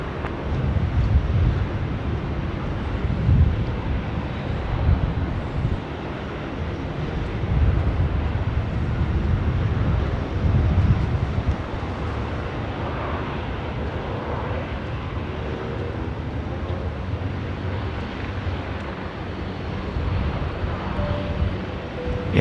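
A jet airliner rolls for takeoff on runway 16 right at Sydney Airport, a broad distant engine roar swelling and fading over about twenty seconds, roughened by wind buffeting on the microphone.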